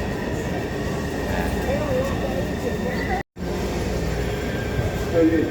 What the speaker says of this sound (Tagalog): Yan na yung MRT na sasakyan namin papuntang Gondola.